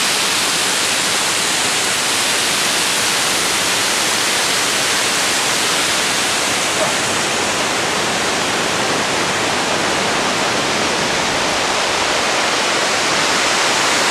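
A waterfall roars steadily on a valley hike during an Elbrus climbing trip: a loud, dense, unbroken rush of falling water fills the whole stretch, with no voices over it.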